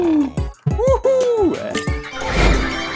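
A cartoon donkey brays in the Crossy Road Castle video game, a loud, wavering neigh-like call with several rising and falling squeals over about two seconds, followed by a burst of game noise.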